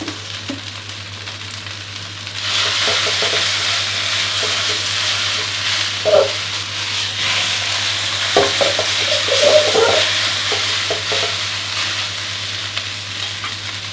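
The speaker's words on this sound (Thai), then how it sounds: "ยังคงใช้ไฟแรงต่อเนื่องเลยนะครับ ตอนที่เราผัด" Fresh yakisoba noodles stir-fried over high heat, a loud continuous sizzle that swells after a quieter start, with occasional clanks and scrapes of a spatula against the pan and a low steady hum underneath.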